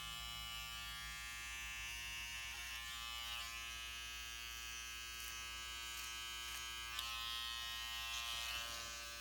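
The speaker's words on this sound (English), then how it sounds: "Then you want to go to your clipper over comb." Electric hair clippers buzz steadily and close up as they run clipper over comb through a classic side part haircut. A constant motor hum carries faint crisp snips of hair being cut and no one speaks.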